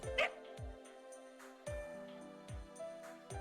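A friendly dog in Shinjuku in the Fate/Grand Order video game gives a short yip and a few soft barks, over looping background music with repeated low thumping beats.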